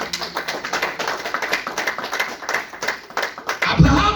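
Church congregation clapping in praise of the Lord, a fast rhythmic burst of many hands, fairly close and steady, ending with a louder thump and a raised voice.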